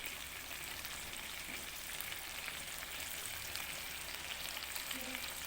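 Chicken masala sizzling steadily in a pan as yogurt is added, a dense continuous frying crackle at close range with no pauses.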